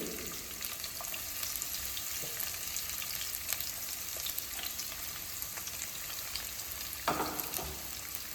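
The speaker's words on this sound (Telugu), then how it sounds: "ఈ పచ్చిమిర్చి వేసేటప్పుడు కొంచెం జాగ్రత్తగా ఉండండి ఆయిల్ వచ్చి మీద పడుతుంది" Chopped onions and green chillies frying in hot oil in a pan, a dense continuous close sizzle with crackling spits and a brief stir near the end, no talking.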